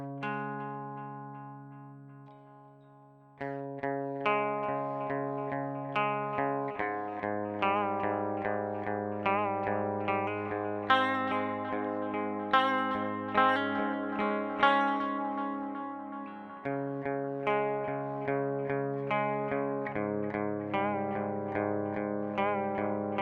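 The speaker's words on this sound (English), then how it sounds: "let's see what the tape echo does" An electric guitar played through the tape echo effect of a NUX MG-30 processor sounds sustained chords and picked notes, each followed by rhythmic decaying repeats, close and clean with no voices.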